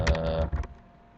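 A quick burst of a few close computer keyboard keystrokes, clicking rapidly together for half a second before fading into quiet room tone.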